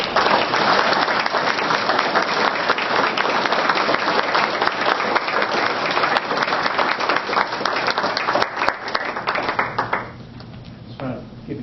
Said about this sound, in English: Could we have a round of applause for our veterans tonight?